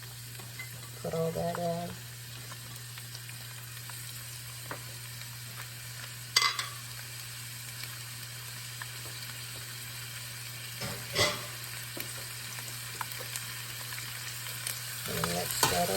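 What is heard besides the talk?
chopped onions and minced garlic frying in a pan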